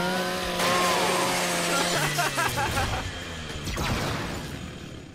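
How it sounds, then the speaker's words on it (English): A Lancer rifle's chainsaw bayonet revs and grinds through a custodial robot in Gears 5, a loud sustained buzzing roar with tonal whine and metallic crunching, under brief game dialogue. "Scrap that custodial unit for me. Just use your Lancer's chainsaw."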